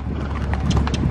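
Horse hooves clip-clopping while racing another horse outdoors, a quick run of dull thuds under wind noise on the microphone.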